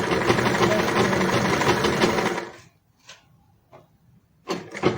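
Sewing machine stitching fabric, a close rapid mechanical chatter running steadily for about two and a half seconds before stopping, followed by near silence with a few brief short bursts.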